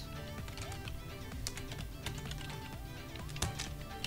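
Rapid, uneven keystrokes on a computer keyboard as a slash command is typed during a Minecraft game, close and moderately loud over a faint steady hum, with no talking.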